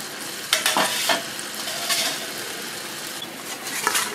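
Silver carp pieces drop into hot oil, a loud close sizzle with sharp bursts as the fish goes in, then steady frying with occasional stirring knocks.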